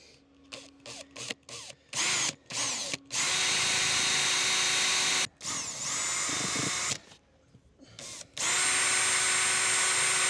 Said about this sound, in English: now it's time to drill some more holes